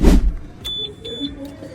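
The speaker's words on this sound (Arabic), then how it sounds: "بصوا في الانذار بالصوت اللي انتم سامعينه ده" A Keeway scooter's alarm sounds in short electronic beeps and chirps after a brief loud thump, fairly quiet and intermittent.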